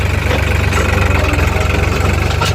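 Tractor engine heading to a wheat harvest field behind a leading vehicle, with a Kartar 4000 combine and New Holland 3630 tractor working together; a steady, loud mechanical drone with a low rumbling throb running continuously, no talk.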